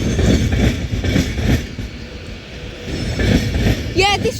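Class 390 electric train passing through Crewe station on the West Coast Main Line, a loud rumbling roll with rhythmic wheel clatter and a brief high squeal near the end, with some voices mixed in.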